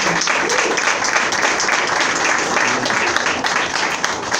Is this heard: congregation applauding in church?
yes